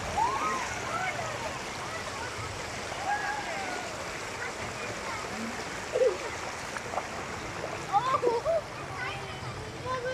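Steady broadband rush of flowing stream water, with voices talking over it and a few brief splashes, at Shahdara Point near Rawalpindi.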